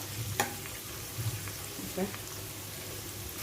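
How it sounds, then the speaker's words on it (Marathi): Chopped onion and crushed curry leaves fry in oil for a Malvani dry clam curry, a soft steady sizzle with a few sharp spatula scrapes and clinks, quiet voice faintly underneath. "तो घालून कांदा थोडा लाल होईपर्यंत परतून घ्यावा"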